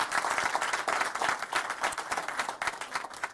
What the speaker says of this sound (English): Can we give him a round of applause again?